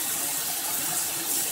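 Water rushes steadily into a container during filtering for low-TDS water, a loud, continuous broadband gush with no talking.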